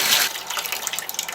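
Running water pours and trickles over a batch of live blackworms being rinsed, a steady close splashing flow with small irregular gurgles.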